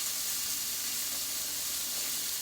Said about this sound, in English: Oh yeah, it's sizzling now